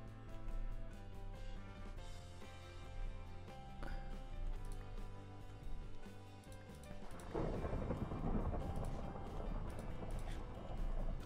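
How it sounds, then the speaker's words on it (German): A Minecraft thunderstorm rumbles over ambient game music, with a heavy, loud thunder crash breaking in about two-thirds of the way through and roaring on to the end. "Boah, ist das so ein Unwetter draußen?"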